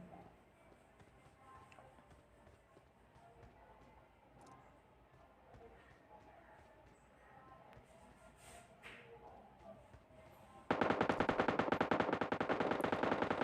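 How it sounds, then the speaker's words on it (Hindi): Gunfire in the mobile battle-royale game PUBG Mobile Lite, faint and distant at first, then a sudden loud burst of rapid repeated shots near the end. "क्योंकि इधर से फायरिंग की साउंड्स आ रखे थे।"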